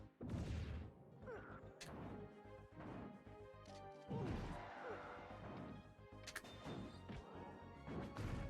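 Video game bomb explosions and crashing hits in Super Smash Bros. Brawl, a run of loud smashes and whacks over layered game music and effects, with sharp impacts recurring every second or two.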